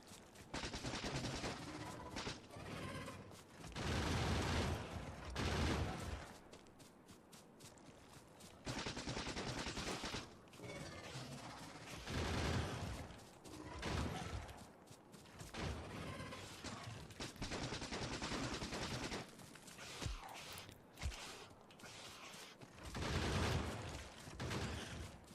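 Factorio: Space Age gunfire runs nearly nonstop, with dense rapid bursts of automatic shots layered with mechanical clatter and booms and only brief dips in intensity, heard alone without talk.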